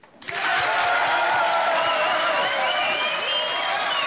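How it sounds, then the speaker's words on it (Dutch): Applause rises quickly and holds as a dense, steady wash of clapping from a large crowd, sustained for several seconds. "mag ik een applaus voor de eerste pitch van Kim?"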